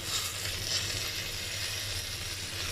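Tomatoes sizzle and crackle in a hot pan while being stirred, a steady close hiss throughout with no voices.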